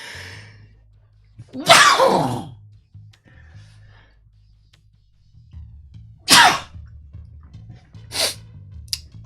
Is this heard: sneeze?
yes